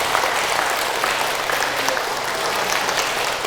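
Steady, dense applause from a church audience at a Korean Catholic talk, even and close throughout, with no speech over it.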